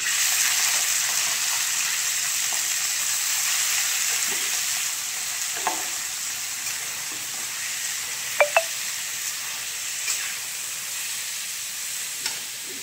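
Minced chicken fries in hot oil in a kadai, a continuous close hiss and sizzle with a few sharp spatters and taps, no voices over it.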